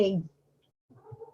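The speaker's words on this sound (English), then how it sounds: "Excuse my cat." A pet cat meows once, a short close call heard indoors during an online meeting, followed by a brief pause and faint voice-like murmuring.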